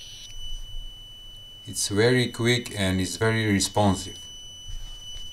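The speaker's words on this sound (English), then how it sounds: "When I release the gas from the lighter, the LED will turn on and the buzzer will sound." A cheap gas sensor module's buzzer, set off by butane from a lighter, sounds as a steady high-pitched electronic tone throughout while someone talks over it.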